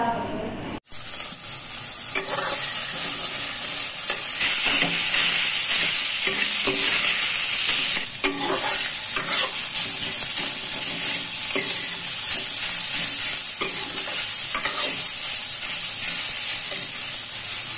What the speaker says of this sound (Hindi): मैं जा रही हूँ चावल फ्राई करने के लिए